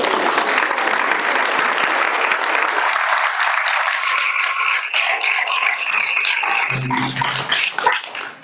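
An audience claps steadily at an ISKCON initiation ceremony class, dense and sustained applause for several seconds that thins out toward the end, with a brief low murmur near the close.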